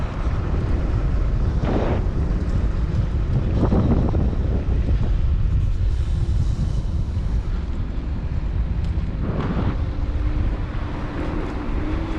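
Riding a Vsett 10+ electric scooter fast, around 50 mph, makes loud, constant wind buffeting over the microphone along with a roaring rush of air, and a few brief surges as the speed changes.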